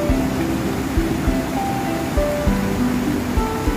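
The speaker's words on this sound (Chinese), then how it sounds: "大水后的溪流水特别多" A small mountain stream in Taiwan runs high and fast after heavy summer rain, a loud continuous rushing wash with no voices.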